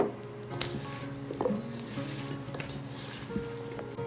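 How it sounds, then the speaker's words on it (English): Pie filling with vanilla added is stirred in a bowl, giving soft wet squishing and scraping with light clinks of utensil against the bowl, fairly quiet and continuous without talk. "once you've added the vanilla, you can go ahead and mix again"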